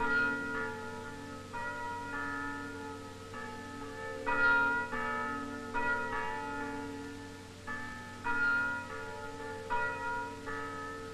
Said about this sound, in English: the Sunday sound of bells is as much a part of life for all Lebanese